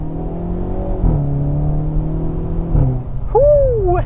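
2022 Hyundai Veloster N with a dual-clutch transmission accelerating in fifth gear, a steady engine drone holding then dropping as revs shift, with a brief rising whine near the end.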